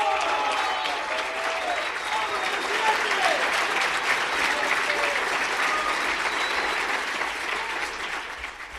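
Sustained applause and cheering from an audience after a speech by Argentina's president Milei, dense clapping with scattered voices and whistles in the crowd, holding steady before tapering off at the end.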